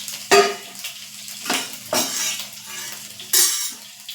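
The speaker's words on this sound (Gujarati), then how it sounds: "તો આપણું તેલ ગરમ થઈ ગયું છે. હવે અહીંયા 2 થી 3 કળી લસણ જે ઝીણું સમારી છે તે એડ કરીશ." Chopped garlic, two or three cloves, goes into hot oil for wheat-flour noodles, giving a few sharp sizzling bursts with spoon stirring and clinks of utensil against the pan in between, close and without any voice.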